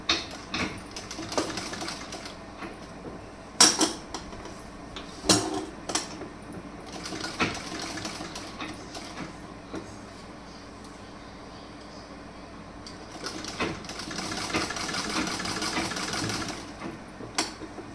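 A sewing machine stitches a garment seam at the shoulder, its faint rapid whirring runs broken by clicks and handling noises, with someone talking quietly in between.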